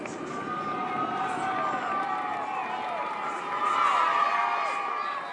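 A roadside crowd at a rainy Tour de France stage cheers and shouts continuously, with whistles and rising whoops swelling louder near the end, heard at moderate distance.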